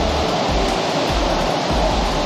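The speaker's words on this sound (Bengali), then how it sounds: "এই সেই আপনার জায়গা যেখান থেকে ওপর থেকে ঝর্ণার জল পড়ছে" Water pours from a waterfall at Panchalingeshwar temple, a loud, unbroken roar of rushing, splashing water with a deep rumble underneath.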